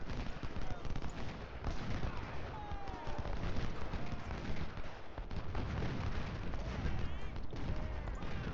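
Massed rifle fire in the Civil War strategy game Ultimate General Civil War, set at a battle to capture a fort: a dense, unbroken crackle of overlapping shots and volleys that stays loud throughout.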